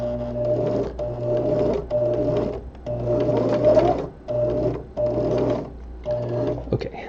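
Domestic sewing machine stitching a seam at a quilting and webbing project, steady loud mechanical whirring in repeated bursts with brief stops between runs, no voices.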